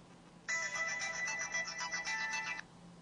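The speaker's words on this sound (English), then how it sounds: "You can set separate volumes for the ringtone and for the system sounds." A ringtone sample plays on a Samsung Instinct S30 phone for Sprint: a bright, trilling electronic ring that lasts about two seconds and is heard alone over faint background hiss.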